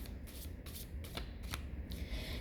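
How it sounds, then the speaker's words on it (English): A deck of tarot cards being shuffled by hand, a soft papery riffle and slide repeating in quick bursts, close and fairly quiet with no voices. "First I'm going to clear the cards"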